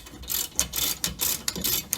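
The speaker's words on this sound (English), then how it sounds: "I'm going to have to use my socket wrench. So I'm just going to tighten this one" A socket wrench ratchets while tightening the hub on a Jeep Cherokee axle: close, crisp bursts of clicking that come in a quick, even rhythm of about five strokes.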